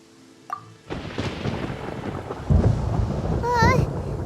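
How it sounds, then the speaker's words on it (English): Thunder rumbles through a stormy scene in Genshin Impact, a deep rolling boom building after a brief quiet start and holding steady, with a chirping game effect near the end. "Paimon hears thunder!"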